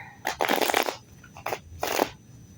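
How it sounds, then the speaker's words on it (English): Tarot cards shuffled by hand in three separate bursts of riffling, close and fairly loud, each lasting under a second with short pauses between, and no talking. "Let's shuffle"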